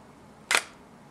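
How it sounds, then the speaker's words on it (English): A single crisp DSLR camera shutter click, close and sharp, in an otherwise quiet room. "And I just hit the shutter."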